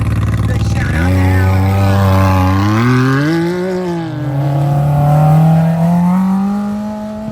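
Polaris and Can-Am UTVs in a desert off-road race qualifying roar loudly and continuously, with engine pitch climbing and shifting as they accelerate past. A commentator's voice runs underneath.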